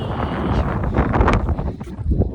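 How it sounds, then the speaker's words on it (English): Gusty wind buffeting the microphone, rumbling and fluttering in uneven bursts, close and fairly loud with no speech. "Sorry, it's quite windy."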